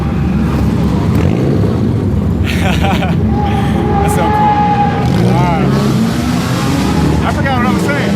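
A car's engine drones steadily from inside the moving vehicle, a constant loud low rumble, while people talk over it.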